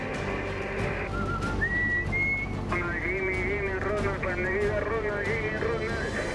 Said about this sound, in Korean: 다른 배들과 교신하며 연신 휘파람을 불어대는